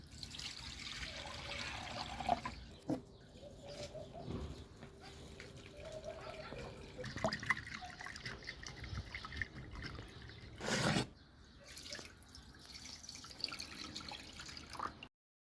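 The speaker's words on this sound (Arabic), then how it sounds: "معانا كوبايتين ميه وكوبايه من النشا، في اي حاجه واسعه وهندوبهم تمام." Two cups of water and a cup of starch are poured into a wide bowl and stirred, a faint, quiet trickling and dripping with soft clinks close by in a still kitchen.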